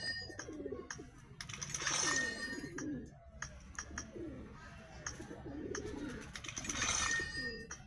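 Several pigeons coo in a steady rolling chorus, their low throaty calls swelling and fading in repeated waves at moderate loudness, with occasional chirps and light clinks behind and no talking.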